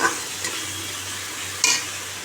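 Masala for a fish curry made with two kinds of fish is stirred and fried in a pan, giving a steady close sizzle with a few sharp scrapes of the spoon against the pan and no talking.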